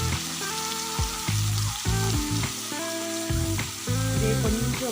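Chicken pieces sizzle steadily in hot oil in a pan for a capsicum gravy, with a constant loud fry broken by a few stirring clatters and no talking.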